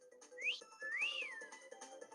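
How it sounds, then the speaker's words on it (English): A person whistles close by: a short rising note, then a longer note that swoops up and falls away, clear and alone with no talking. "I was whistling at myself because I'm pretty darn good looking."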